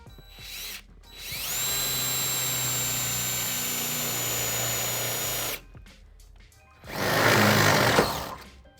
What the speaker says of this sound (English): I'll be using 3/8 drill bit to drill a hole into the rear frame of the vehicle